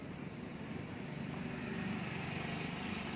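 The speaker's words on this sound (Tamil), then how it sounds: "இப்போ இந்த ஜேசிபி அப்படியே ஏற போகுது கைஸ்." A JCB excavator's engine drones steadily as the machine climbs onto a tipper truck, a continuous mid-loud rumble with no talk.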